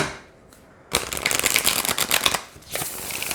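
A deck of Housewives Tarot cards is riffled in one continuous dense flutter of crisp card slaps lasting about two seconds, near and clear, followed by a brief lighter burst of shuffling.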